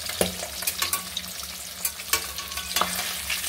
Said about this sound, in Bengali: এক এক করে মাছগুলো আমি সব ভেজে নেব।